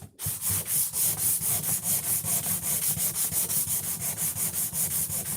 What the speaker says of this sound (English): you guys would be surprised what wet sanding does